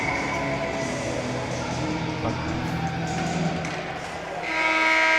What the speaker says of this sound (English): As whistle sounds, end of the second.